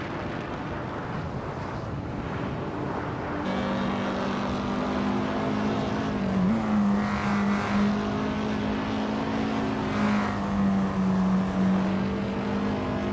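Race cars, including a Ferrari F40 Competition, drone past in a racing video game, with a steady engine roar and a sustained tone that rises and dips as the cars hold speed, without any talking.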